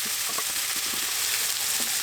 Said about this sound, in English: So I'm just going to fry these onions up until they become a little bit translucent.